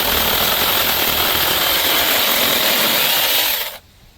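A cordless DEKOPRO 6-inch mini electric chainsaw cutting through a dead, dried 2 to 3 inch branch, a loud, steady high-pitched buzz that holds for several seconds, then stops abruptly as the cut finishes, with no talk.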